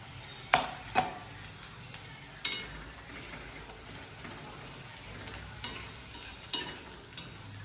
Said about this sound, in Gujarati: થોડી ફ્રાય થવા દેવાની